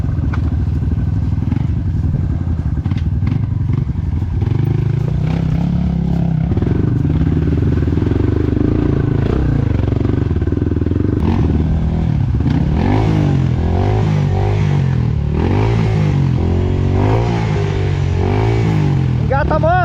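An off-road enduro motorcycle engine drones loudly and continuously on a hard enduro trail, revving and straining with clattering thumps as it climbs, while voices shout over it.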